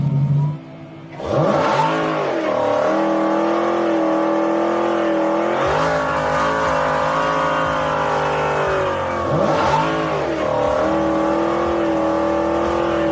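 Hennessey-modified muscle car with over 1,000 horsepower, its loud engine revving hard in repeated surges, rising and falling with each gear change and building again, heard close and alone with no talk.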